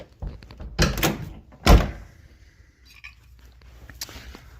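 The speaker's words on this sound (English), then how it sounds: "Let me close the door and try it." A door in a home workshop swings shut with a couple of sharp thuds and a loud bang, followed by quieter rattles and clicks.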